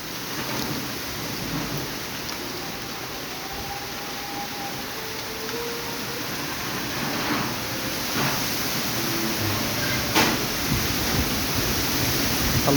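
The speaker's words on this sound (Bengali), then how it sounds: "কি সুন্দর বৃষ্টি হচ্ছে।" Steady rain falls outdoors in a windy storm, a continuous broadband wash with occasional sharper drop hits and a faint distant rumble beneath, no voices.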